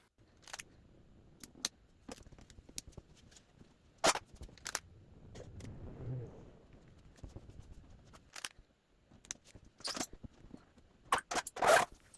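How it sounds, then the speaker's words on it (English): Clear packing tape being pulled off the roll and pressed over a hole in drywall, giving sharp ripping bursts and soft rubbing between quiet pauses, near and fairly faint. "Our next step is to cover the front of the hole with clear packing tape"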